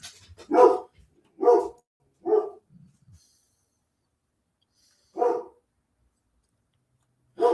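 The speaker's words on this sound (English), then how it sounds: "what are you barking at?" A dog barks several times in quick succession, then pauses before two more separate barks, fairly close and alone without talk.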